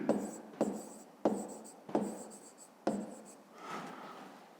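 A pen writes by hand on paper while a math exercise is worked out. Five distinct scratchy strokes start sharply and fade, then softer rubbing follows, quiet and close.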